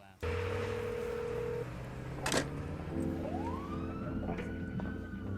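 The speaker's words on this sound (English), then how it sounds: "And now Tyler doesn't answer the phone?" Telephone call in the film Fight Club: a held dial tone and touch-tone beeps, then a rising and falling siren-like ringing tone, all faint and thin as if heard through a speaker.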